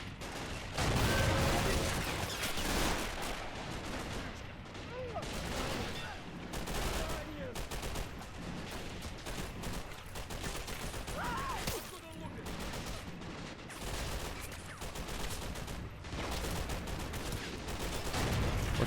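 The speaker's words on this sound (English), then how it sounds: "That T-34-85 is going to cook off a little bit more." A burning T-34-85 tank's ammunition cooks off in a WWII Operation Bagration 1944 battle scene, with dense, irregular bursts of popping and crackling gunfire, near and loud, flickering continuously over a constant rumbling backdrop.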